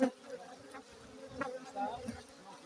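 Honey bees buzz around hives that have fallen over at an apiary, a dense droning hum with individual insects passing close, and faint voices in the background.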